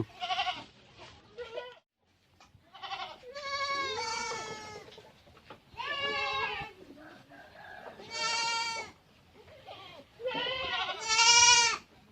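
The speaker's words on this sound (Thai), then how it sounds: "มันเรียกเรียกหาข้าวกินแล้วน่ะ" Goats in a village pen call for food with repeated loud, quavering bleats, one after another in bursts with brief pauses between them. The calls are close and dominant, with no talking heard.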